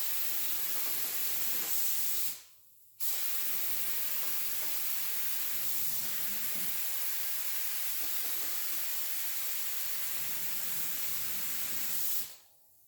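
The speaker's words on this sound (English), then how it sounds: "Just going to get my air hose over here and start spraying." A spray gun on an air hose hisses steadily as clear coat is sprayed onto a dresser, a loud, close, continuous broadband spray that stops briefly once and then resumes until a final cutoff, with no talking.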